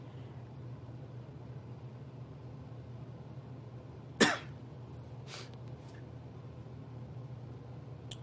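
A single sharp cough stands out against a low steady hum, followed by a fainter second cough about a second later.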